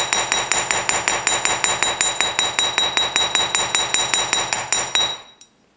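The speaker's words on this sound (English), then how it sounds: "I like to hammer along the outside" A hammer taps rapidly and evenly along the outside edge of a wire washer ring to bevel it, giving about two dozen close, bright metallic clinks before stopping.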